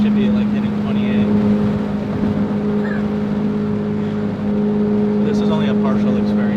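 A Ford Focus RS drones under hard acceleration from inside the cabin, a steady loud engine tone with road roar throughout and no break; someone talks over it.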